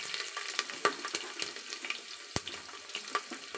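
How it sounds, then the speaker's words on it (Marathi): Garlic and green chili hit hot oil with cumin and shahjeera for soya biryani, giving a quiet crackling sizzle broken by sharp pops and spoon clatter, with no talking. "शहाजिरे टाकल्यानंतर लसूण टाकतोय लसूण टाकल्यानंतर थोडीशी मिरची टाकतोय"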